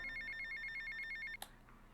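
A phone in GTA: Vice City rings with a steady, rapid electronic trill for over a second, cut off abruptly by a click as it is answered, then a quiet game background.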